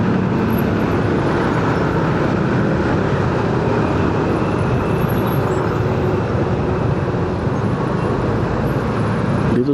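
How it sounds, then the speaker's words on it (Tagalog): Steady roar of road traffic on Quezon Avenue in Metro Manila, a continuous broadband wash of engines and tires with no pauses and no talking. "Dito sa Quezon Ave to traffic."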